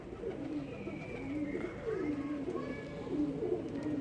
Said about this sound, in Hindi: अब कबूतर बैठना शुरू हुए हैं बिल्कुल